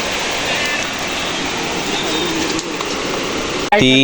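A forest stream and waterfall pour in a continuous broadband rush, steady and fairly loud, cut off near the end by a brief sharp tonal sound.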